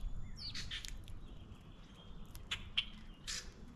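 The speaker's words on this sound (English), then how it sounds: "Listen to the sounds of the bird." Several sharp chirps and short calls of common grackles at a backyard feeder ring out in quick scattered bursts over quiet outdoor background noise, fairly close by.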